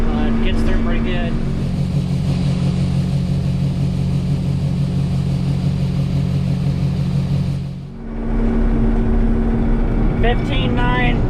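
Two-wheel drive combine harvester driving through a field at near top speed, a loud, steady engine drone with a constant hum that briefly dips and then resumes, with someone talking over it.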